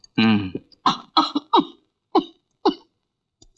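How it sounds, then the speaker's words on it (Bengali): A woman coughs in a short series of harsh, separate bursts, loud and close, spaced by brief pauses, in a dramatic Bengali movie scene. "কাশি সেরে যা।"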